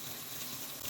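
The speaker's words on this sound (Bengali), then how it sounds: "এই তেলে আলু ফুলকপি ভাজবো এখন" Potato and cauliflower pieces fry in hot oil just used for frying fish, producing a steady, even sizzling hiss with no breaks or voices.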